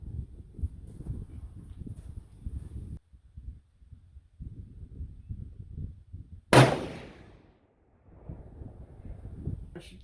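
A single sharp, loud rifle shot of a hand-loaded round cracks at an outdoor shooting range, standing out between stretches of someone talking close by.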